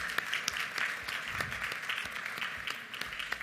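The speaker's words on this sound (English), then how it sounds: "another round of applause for those great supporters as well" Steady applause from an audience at a school academy celebration event, a dense continuous patter of many hands clapping at a moderate level with no talking over it.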